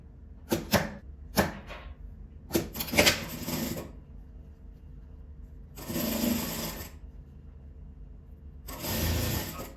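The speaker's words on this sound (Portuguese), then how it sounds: "Eu vou dobrar o meio novamente, fechar e passar a costura." A sewing machine stitches a folded fabric seam on a scrap organizer, running in several short, close bursts before two longer, steady runs separated by quiet pauses.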